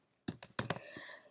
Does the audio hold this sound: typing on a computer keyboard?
yes